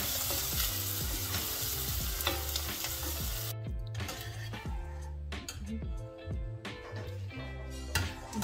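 Garlic sizzles steadily in a hot pan for a tomato and beef cannelloni sauce, a dense continuous fry with clinks and scrapes of a utensil and stirring throughout.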